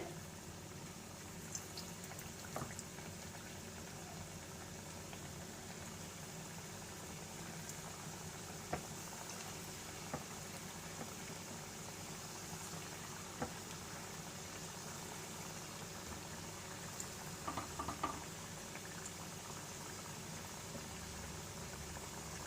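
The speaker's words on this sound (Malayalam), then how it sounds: "ഇപ്പം ഞാൻ ചിക്കൻ പീസസ് ഓയിലിലേക്ക് ഇട്ട് കൊടുത്തിട്ടുണ്ട്." Chicken pieces frying in hot oil over a medium flame for chicken Manchurian, a steady soft sizzle and bubbling hiss that runs throughout with faint occasional pops and no talking.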